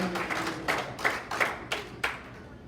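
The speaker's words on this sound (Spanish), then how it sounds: "Dale palmas al Rey de Reyes y Señor de Señores" Congregation clapping during a Sunday church service, a few sharp, separate claps at an irregular rhythm, each rising briefly above a steady murmur of room noise, moderately loud and close.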